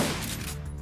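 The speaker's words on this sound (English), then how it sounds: "Oh no, that was like a real grenade." A grenade detonates in the video game Shadowrun: Dragonfall, a brief, loud, dense burst of rumbling blast noise that fills the moment and fades slightly, with no talking over it.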